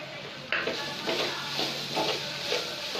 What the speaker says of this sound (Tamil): மசாலா நல்லா சாந்ததுக்கப்புறம் நல்லா கிண்டி விடுங்க